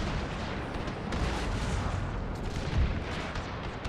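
Dense musket volleys and artillery in a Thirty Years' War battle in Total War, a continuous rumbling barrage of overlapping gunfire with a heavier boom near the end, no talk.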